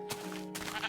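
A sheep bleats in the video game Minecraft, one short wavering cry over a steady game-sound background, close and moderately loud.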